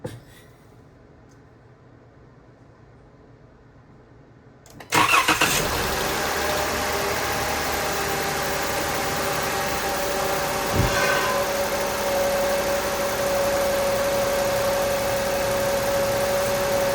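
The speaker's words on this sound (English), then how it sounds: "Now I'm gonna start it, let it run for like 30 seconds" A 2017 Chrysler Pacifica engine cranks after a few quiet seconds, catches abruptly, and settles into a steady, even idle that runs on unbroken, with no talk.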